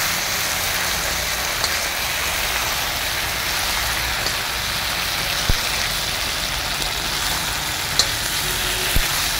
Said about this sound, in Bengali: এখন মিডিয়াম আছে এটাকে কষানো হচ্ছে, খুব হাই ফ্লেম দিইনি, নাহলে পুড়ে যাচ্ছিল মশলা।